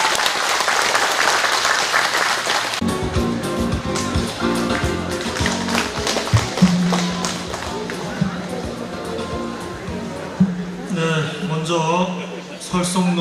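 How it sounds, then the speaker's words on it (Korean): A burst of applause from a crowd at a completion ceremony for an automated rice seedling nursery in Icheon, South Korea, loud and dense at first, then giving way to a person speaking with scattered claps continuing underneath. "여러분 뜨거운 박수 부탁드리겠습니다"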